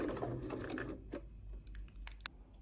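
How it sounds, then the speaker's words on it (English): A sewing machine stitches a pinwheel quilt block seam slowly, a brief quiet mechanical whir fading into soft ticking clicks. "I'm going to sew nice and slowly over it all the way to the very end."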